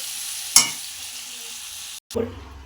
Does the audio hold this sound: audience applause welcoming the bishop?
no